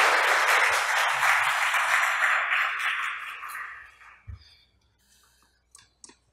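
Audience applause at a legal seminar on contesting corporate resolutions, steady and fairly loud at first, then fading away over the last couple of seconds into scattered claps and near silence.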